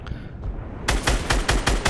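Gunfire in the Fortnite Battle Royale video game: a faint shot or two, then a rapid string of about six loud, evenly spaced bursts, close and alone without talk.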